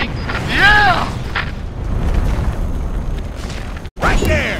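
A cannon firing in the heavy-metal action game Brutal Legend, a loud booming blast among explosive bursts and crashes, with whistling effects and game noise throughout.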